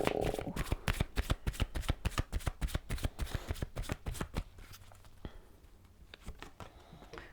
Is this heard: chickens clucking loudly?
no